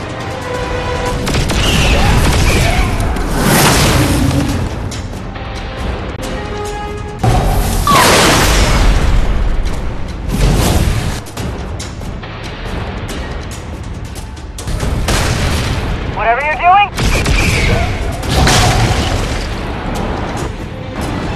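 Booming explosions and blasts in the Borderlands game, Vault of the Traveler battle, loud and dense in repeated bursts over a continuous din of combat, with little or no talk.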